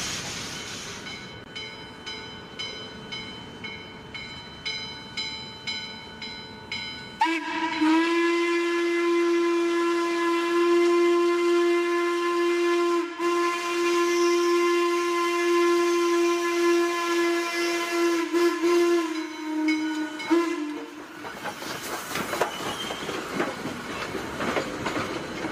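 C&O H6 class compound Mallet steam locomotive No. 1309, on the Western Maryland Scenic line, chuffs in a rapid rhythm, then its steam whistle sounds in one long, loud, sustained blast over the running train.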